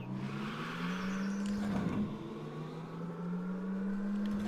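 A custom car engine in LittleBigPlanet drones steadily at close range, its pitch climbing and settling as it shifts through close-ratio gears, with no talking.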